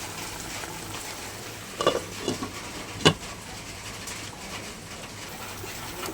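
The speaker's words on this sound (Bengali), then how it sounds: "ঝোল বেশ ভালোভাবে ফুটে গেছে" A thin katla fish curry simmers in a covered pot, giving a steady soft bubbling sizzle with a few brief clinks and knocks, close by and with no voices.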